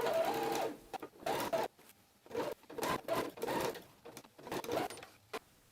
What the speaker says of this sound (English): Now sew your binding along the inside edge of your armhole